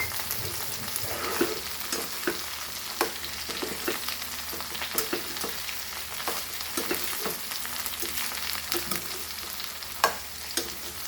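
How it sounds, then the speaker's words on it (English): Green brinjal sautéing in a pan for Goan-style masala, a steady frying sizzle broken by frequent clacks and scrapes of a spoon stirring the pieces, close and continuous. "and saute this."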